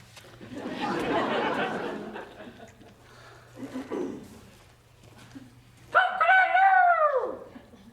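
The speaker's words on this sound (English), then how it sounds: "An afternoon crow?" A rooster crows once, loud and fairly close, in a rural afternoon setting, after murmuring voices and background chatter.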